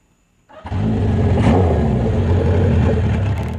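A car engine fires up after a brief silence and revs loudly through a deep exhaust fitted with a new exhaust tip, holding a steady, throaty roar up close.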